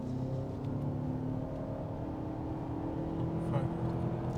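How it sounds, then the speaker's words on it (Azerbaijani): A 2025 Toyota Camry XV80 2.0 hybrid accelerating in sport mode, heard from inside as a steady engine and electric whir holding a constant level under the cabin hum. "İndi basacağıq görək sportda necə gedir bu avtomobil."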